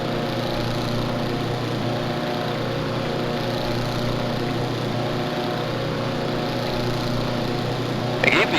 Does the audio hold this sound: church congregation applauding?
no